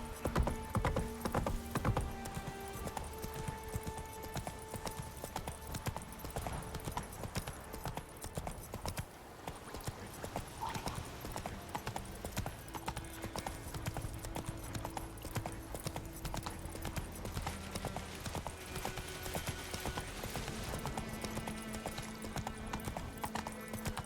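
Hooves of Roach the horse galloping in The Witcher 3, a fast, even clip-clop that runs throughout with an occasional whinny and game music beneath.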